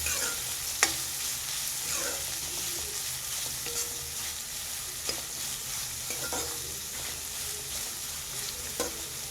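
Finely chopped onion fries in a pan over low heat for a buttery green pea usli, a continuous close sizzle with occasional light clicks of a spoon stirring, steady and alone without talk.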